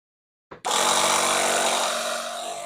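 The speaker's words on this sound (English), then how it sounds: "now we can plug in our air compressor" A portable 12-volt air compressor in the bed of a Ford Maverick pickup clicks on and then runs loud and steady, a continuous hiss-laden motor drone with no talk over it.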